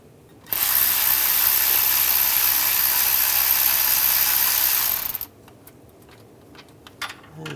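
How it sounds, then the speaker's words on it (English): A ratchet drives a 13mm socket to loosen the alternator bolt on a 2011-2018 Ram 1500. Close, steady, dense ratcheting lasts about five seconds, then a few faint, scattered clicks follow. "Use a 13mm socket or a wrench."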